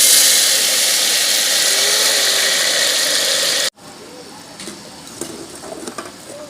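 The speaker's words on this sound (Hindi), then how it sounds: "अब थोड़ा सा पानी डाल देंगे इसमें।" Water is poured into hot ghee and sugar for Multani halwa, a loud, steady hissing rush that cuts off abruptly partway through and gives way to quieter clinks and kitchen noise.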